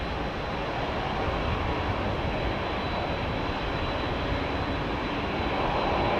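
A jet airliner's GE9 engines spooling up for a runway 27R departure at London Heathrow, a loud steady broadband roar with a thin high whine running unbroken throughout.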